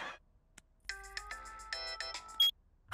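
Electronic phone ringtone during an outgoing call in a TV comedy scene, a bright melodic tone pattern with sustained notes and a short higher chirp near the end, alone and fairly clear after a brief quiet start.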